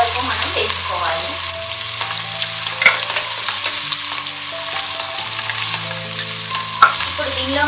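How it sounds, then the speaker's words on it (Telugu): Chopped onions and green chillies frying in a pan for green peas pulao, giving a loud, steady sizzle with occasional stirring scrapes and spatters, close and uninterrupted, with no voices. "ఇప్పుడు దీనిలో మనం కట్ చేసి పెట్టుకున్న ఉల్లిపాయలు, పచ్చిమిరపకాయలు వేసుకోవాలి. ఇది గోల్డెన్ బ్రౌన్ వచ్చే వరకు మనం వేయించుకోవాలి."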